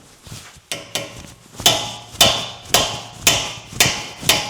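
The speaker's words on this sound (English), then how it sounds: "I'm going to take a mallet man, that guy is stuck." A mallet strikes a stuck axle shaft in the front steering knuckle of a fifth-generation Toyota 4Runner, a series of loud metallic blows at a steady rhythm about every half second, close up, with lighter taps at the start.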